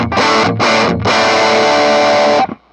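A 2014 Gibson Les Paul Futura electric guitar, hot bridge pickup pushed with a boost, drives the amp into thick, loud overdrive: two short chords, then a long sustained chord that cuts off abruptly.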